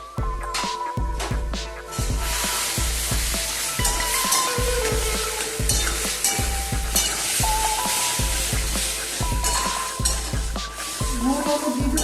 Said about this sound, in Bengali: নুন হলুদ দিয়ে একটু নেড়ে দিই।